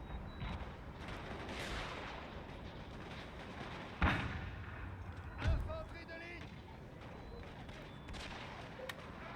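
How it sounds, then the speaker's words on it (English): Musket gunfire against soldiers in a Total War: Napoleon battle, heard as a steady crackle of distant shots with two sharper reports that stand out, under continuous battle noise and talk. "there's some sort of fire coming to our soldiers, and it's from the little house down there occupied by the Dutch"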